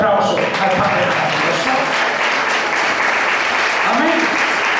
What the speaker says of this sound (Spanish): Dense aplauso al Padre.